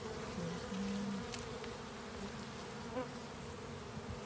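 Honeybees buzz steadily around a hive being heat-treated, a dense continuous drone with single bees whining close by. Low background noise runs under the buzzing.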